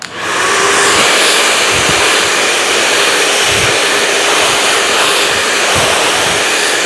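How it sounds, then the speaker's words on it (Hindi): A handheld hair dryer blow-drying and styling hair, switched to its cool setting after hot air, gives a loud, steady, close-up rushing whoosh that runs without a break for the whole stretch, with no talking. "अब हम कोल्ड ड्रायर चला रहे हैं, पहले गरम फिर ठंडी।"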